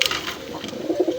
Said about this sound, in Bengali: বন্ধুরা এখানে আরেক জোড়া রাসগোল্লা কবুতর আছে